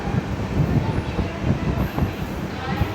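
An LHB passenger coach train pulls out of Kishangarh station in the evening, with a close, loud rumble and rhythmic wheel clatter rolling steadily past.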